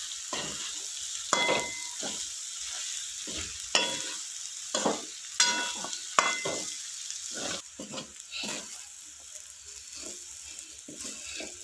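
Rajma rice being stirred with freshly chopped coriander in a hot pan: repeated scraping stirs over a steady close sizzle, no talking.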